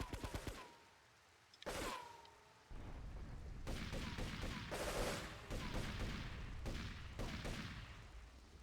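Rapid bursts of video game gunfire in Grand Theft Auto 3, with scattered single shots followed by sustained volleys of rattling fire, moderately loud with no talk over it.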